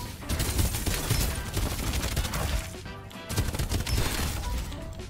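Gunfire in the battle royale game Farlight 84, dense bursts of shots and impacts filling the scene almost continuously, loud and busy with a brief lull midway.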